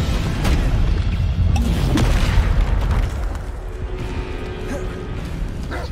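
A Descendo spell lands in Hogwarts Legacy with booming, crashing impacts and debris clatter, loud at first and then settling into rumbling game noise.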